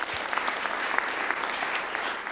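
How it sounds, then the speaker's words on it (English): Audience applause at a quantum computing conference talk, a steady wash of many hands clapping throughout, sustained and fairly even with no talk over it. "well, we can clap."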